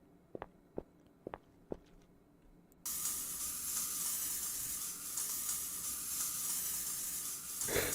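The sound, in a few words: bug spray in video game Stay Out of the House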